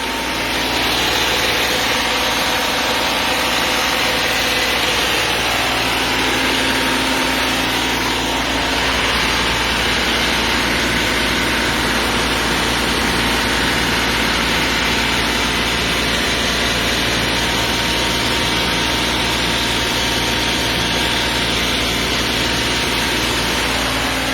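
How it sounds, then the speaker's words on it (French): 2010 Audi A6 V6 TDI diesel engine idling after a particulate filter cleaning, a loud, steady, close-up hum with a constant mechanical whine and no talk. "Donc là on remet le moteur au ralenti."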